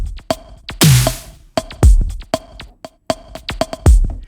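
A punchy programmed drum groove from a sample library plays alone, with crisp snare and kick hits, sharp clicks and a recurring booming low tom-like thump in a steady, syncopated pattern, loud and close.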